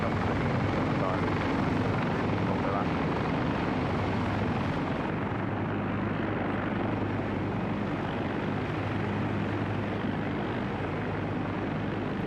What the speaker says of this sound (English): West side military base, aircraft taking off right now.